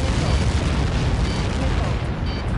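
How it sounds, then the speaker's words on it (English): A massive missile impact explosion in the Ace Combat 7 flight game, a continuous dense roaring rumble of blast and debris filling the whole clip, loud and sustained. "How many got caught in that explosion?"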